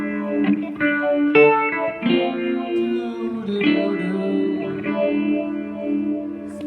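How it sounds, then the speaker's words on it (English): An electric guitar run through a phaser effect pedal plays sustained, swirling chords and notes with a sweeping, whooshing tone, fairly loud and close with no talking. "the next one is a phaser"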